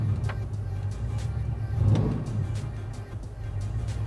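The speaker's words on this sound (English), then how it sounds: "we're gonna brake torque it, act like we're about to do a burnout" Truck engine with a Truck Norris cam, brake torqued on a dyno, gives a loud, steady lumpy rumble that swells briefly near the middle and then settles back to a rough idle.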